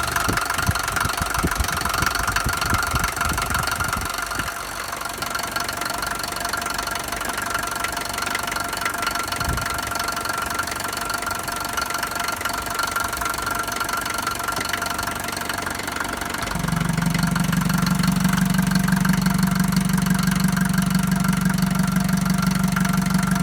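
A Mercedes-Benz 190D W201 with a 2.2 OM601 diesel idles with a steady rough rumble and faint knocking, with heavy blow-by at the oil cap, then settles into a louder, even hum partway through.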